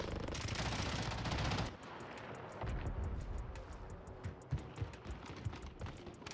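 A teammate's gunfire in a Call of Duty game on Rebirth Island: a loud sustained burst of rapid shots, then scattered quieter single and double shots continuing in the background.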